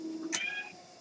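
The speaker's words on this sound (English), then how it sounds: "Yes, that meow right there." A kitten in a pottery studio gives a single short, high meow, faint and brief against a quiet room.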